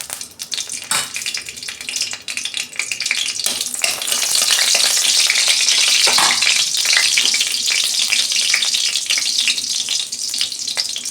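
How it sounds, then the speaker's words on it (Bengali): Dried red chili dropped into hot oil for tempering, a loud, steady crackling sizzle that swells after a few seconds and holds, with scattered pops and some stirring. "তেল দিচ্ছি, ফোড়নে একটা শুকনো লঙ্কা দিচ্ছি"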